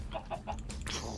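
A chicken in a video game gives three quick clucks, then a slightly longer squawk, close and clear over a low background hum.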